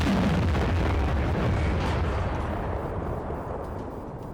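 Tank cannon fire in World of Tanks: a loud, booming low blast at the start, followed by a long rumbling roar that slowly fades, with no talk.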